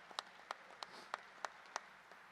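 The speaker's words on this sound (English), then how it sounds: "A big round of applause for Ann Brooker towards the back here." Sparse, faint clapping from a small part of the audience at a sports hall-of-fame induction ceremony, roughly seven separate claps spread evenly, distant and thin rather than a full round of applause.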